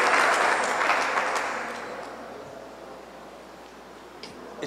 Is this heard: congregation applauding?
yes